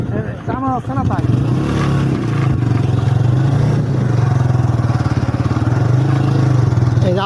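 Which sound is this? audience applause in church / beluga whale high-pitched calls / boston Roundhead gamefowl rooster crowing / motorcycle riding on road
motorcycle riding on road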